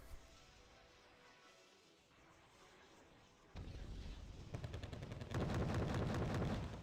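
Gunfire in the video game Wargame Red Dragon, with units firing at point blank range toward a town. Intense shooting builds in two steps into a dense, continuous roar of rapid shots and blasts.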